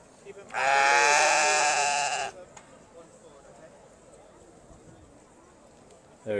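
Valais Blacknose sheep bleats loudly once, a long quavering call lasting nearly two seconds, at a livestock show, followed by quiet crowd murmur and a faint voice.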